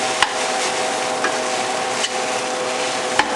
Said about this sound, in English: break up your rice nice and quickly. And you want to fold the aromatics into it